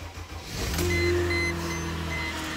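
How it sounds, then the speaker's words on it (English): A truck engine catches and settles into a steady, close idle after a brief cranking start, its low rumble holding evenly with a faint high whine above it. "she should just crank up with no problem"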